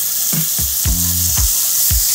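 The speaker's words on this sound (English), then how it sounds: "I want it to sear it and get a nice caramelization on each side of those cubes" Beef cubes sear in a hot pan with a constant loud sizzle, punctuated by several dull low thumps as pieces are moved or dropped, with no voices.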